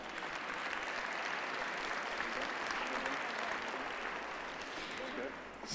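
An audience at a plenary dialogue session applauds a panel with steady, dense clapping from a large crowd for several seconds before it begins to fade.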